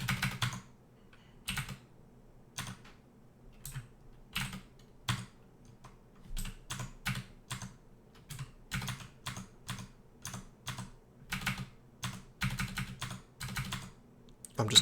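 Computer keyboard keys pressed while playing Dungeon Crawl Stone Soup, irregular clusters of crisp close clicks and taps with short pauses between bursts, no voices.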